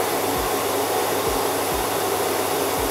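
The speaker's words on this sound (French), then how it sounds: "Mais il tient le coup, il tient et l'aspirateur fonctionne." A vacuum cleaner runs steadily on an EcoFlow portable battery power station drawing around 1700 watts, a continuous close, loud whooshing drone with a few low thumps.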